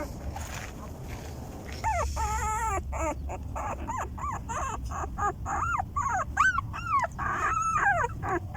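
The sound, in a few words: newborn puppy whimpering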